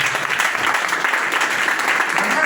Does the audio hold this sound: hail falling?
no